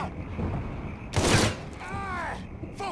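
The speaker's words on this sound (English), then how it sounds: "Fucker won't stop shooting!" Gunfire in Mafia III comes as a loud burst of shots in the middle, with scattered lighter cracks and mechanical clicks around it, while voices shout over the action.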